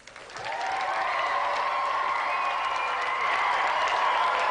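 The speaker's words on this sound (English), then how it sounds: "Round of applause for Christian." Steady applause from the studio audience of the TV game show GamesMaster, rising quickly and holding at an even level for several seconds, with some cheering mixed in.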